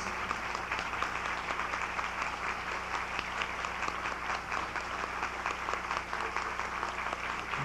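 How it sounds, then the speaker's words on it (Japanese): Audience applause as guests exit a Nichiren Shoshu temple culture festival in the main hall, a dense, continuous clapping of a large crowd, steady and even from start to finish. "拍手を持ってお送りください"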